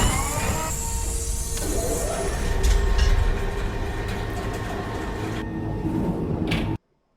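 A train sound effect plays as a stream raid alert during a Stardew Valley stream, a loud continuous rumble and clatter of rolling rail cars with a whistle-like tone, cutting off abruptly at the end.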